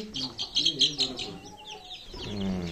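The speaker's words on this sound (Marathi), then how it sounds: "आता त्या कोंबड्यांना पण सोडतो" Free-range village chickens and chicks cluck and chirp nearby in quick, overlapping bursts, fairly soft, with a few drawn-out fowl calls toward the end.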